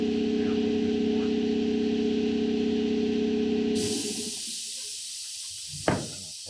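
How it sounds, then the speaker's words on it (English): An air compressor blows a steady, loud hiss of air to clean a Stihl MS362C chainsaw during a deep cleanup. The spray stops partway through, leaving a quieter background broken by a single sharp knock. "spraying with the air compressor"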